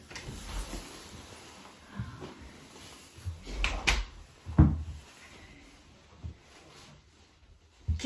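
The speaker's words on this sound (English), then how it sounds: "Okay, let's open the door." A door is opened indoors, giving a few scattered wooden knocks and clunks with a soft latch click over a quiet hiss, without any talk.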